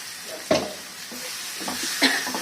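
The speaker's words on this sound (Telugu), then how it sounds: "దీంట్లో పచ్చడి వేసి కలిపేసుకుందాం." Ridge gourd chutney tipped into hot tempering in a pan and stirred, a soft sizzle with a couple of sharp clatters of a spoon against the pan.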